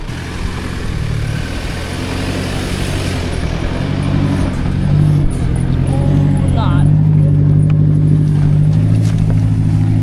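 A Toyota 79 Series four-cylinder 4x4 climbs a hill on the Old Coach Road track toward Cape York. Its engine drones loud and steady from inside the cab, with a low tone that rises gradually.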